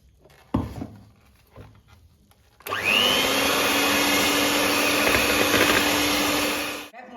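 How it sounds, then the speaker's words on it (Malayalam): An electric beater whirs steadily at low speed through eggs and sugar for a Kerala-style carrot cake, starting abruptly after a few soft clatters and running loud and even for about four seconds before cutting off. "നമുക്ക് മുട്ട ബീറ്റ് ചെയ്യാം"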